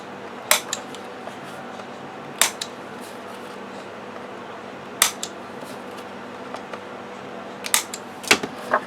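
Cardstock sheets trimmed at 7 inches and their corners rounded with a punch for a file folder mini album: several sharp, isolated crunching snaps spaced a second or two apart, near and crisp, over a quiet room hum.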